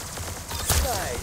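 A single sharp gunshot bursts out in a video game, brief and punchy, set against a murmur of players talking.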